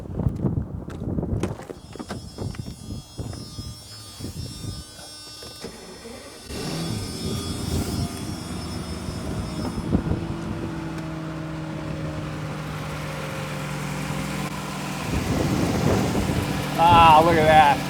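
Mercedes C600 V12 engine from 1995 cranking and firing up, then settling into a smooth low idle, with clicks and handling noises before the start and a voice speaking in the clip.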